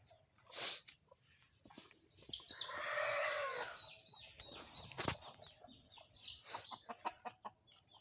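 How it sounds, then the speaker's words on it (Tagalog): Chickens cluck and squawk nearby in short bursts, with a longer cackling run in the middle and a few sharp calls, amid quiet outdoor background. "Mga nasa baba po yung mga manok."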